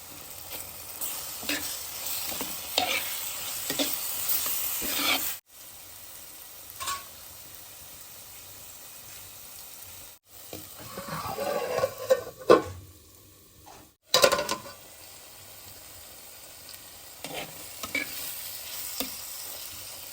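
Mushrooms cook with salt and water in a covered pan, giving a soft, steady sizzle and bubbling broken by a few light clinks and short gaps.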